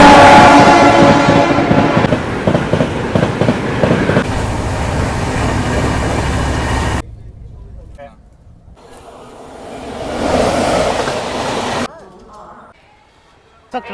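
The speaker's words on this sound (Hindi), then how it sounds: "Rajdhani overtaking Bhubaneswar Duronto express." A Rajdhani train overtakes the Bhubaneswar Duronto Express with loud, close rumbling and rattling wheels that cut off abruptly, followed by quieter stretches of fainter rail noise.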